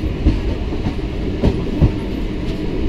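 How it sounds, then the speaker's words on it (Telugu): A WDG-6G-hauled train on the Guntur–Guntakal double line rolls into Bugganapalli Cement Nagar station, with a steady low rumble and periodic clickety-clack wheel beats over rail joints, loud and close throughout. "మనం బుగ్గనపల్లి సిమెంట్ నగర్ రైల్వే స్టేషన్కి అయితే ఎంటర్ అవుతున్నాము"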